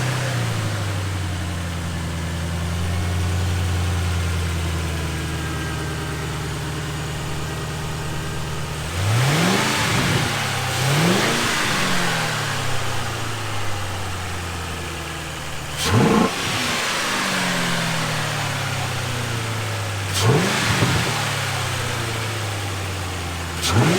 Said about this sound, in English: let's actually start the car, and I'm going to give you guys the engine bay POV as I start the vehicle